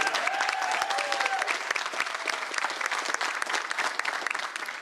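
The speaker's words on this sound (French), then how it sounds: "Ron DeSantis, le gouverneur de Floride, applaudit en signant ce texte." Steady, dense applause from a crowd as Florida governor Ron DeSantis signs a bill, continuous clapping throughout with a faint voice briefly rising over it.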